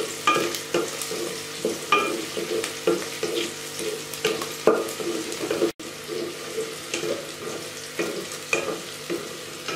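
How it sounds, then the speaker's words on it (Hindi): Onions for chana pulao fry in a pan with a steady sizzle and repeated scraping strokes of a spoon stirring them, close and fairly loud, with no talking. "प्याज को मैंने पिंक कलर में फ्राई कर लिया है"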